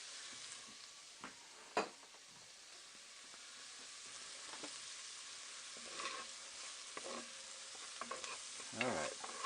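Onions and garlic sizzle quietly in a pan, with a soft, steady frying hiss broken by occasional louder crackles and stirring scrapes.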